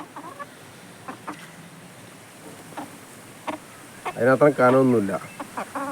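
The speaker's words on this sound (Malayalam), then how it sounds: "ചെറിയൊരു കോഴിയാണ് കണ്ടില്ലേ" A small chicken clucks close by in a short burst of repeated calls, with a person talking before and around it.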